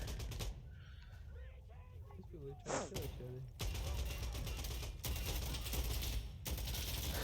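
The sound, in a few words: gunfire in the video game Insurgency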